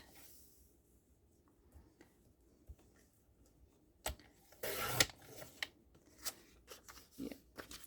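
Paper being trimmed with a blade or scissors for a file folder folio, a few short cutting and rustling bursts near the mic, loudest around the middle, with faint handling noise otherwise quiet.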